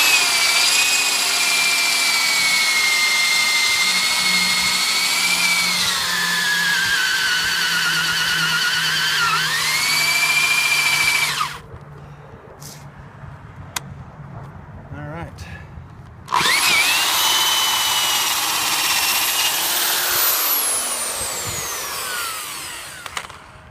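A power drill bores through wood, whining loudly and steadily with shifting pitch, stops for a few seconds of near quiet, then starts up again in reverse.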